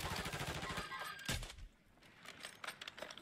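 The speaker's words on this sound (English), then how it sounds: "look at that great airstrike" Call of Duty: Warzone match, an airstrike heard as a string of sharp explosive cracks and bursts with one heavy blast in the middle, followed by scattered distant pops and rumble, all fairly faint.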